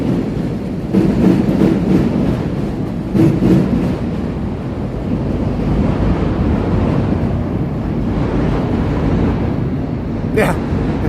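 A Chicago Pink Line elevated train rumbles past on the street, a loud, sustained low roar and rattle with wind buffeting the microphone and a voice talking over it.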